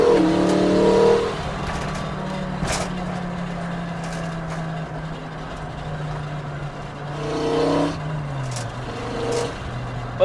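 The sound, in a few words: 5-cylinder swapped mk2 GTI accelerating through 2-3 shift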